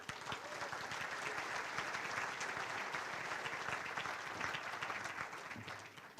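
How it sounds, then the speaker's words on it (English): Banquet audience at a university scholarship and ring dinner applauding an athlete, a dense, even wash of many hands clapping continuously for several seconds, heard from some distance. "Let's have a nice round of applause for Ryan Sullivan."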